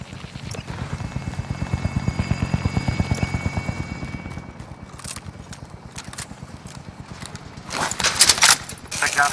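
A helicopter in the video game Warzone, Caldera map, thumps with fast rotor beats that swell and then fade, followed by a burst of gunfire-like cracks near the end, with players talking over it.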